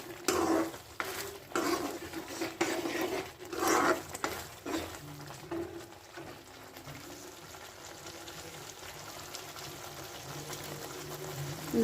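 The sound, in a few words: capsicum tomato curry bubbling as it boils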